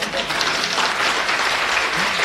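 Audience applause at a poetry recital, a loud dense burst of clapping from many hands, sustained and close, with no gaps for its whole length.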